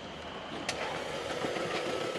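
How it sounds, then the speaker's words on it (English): Audi with a 2.0T engine cranking and starting, with a sharp click as the key turns, then a rough, steady engine running close by, reported to lack compression. "If you don't mind, start the car."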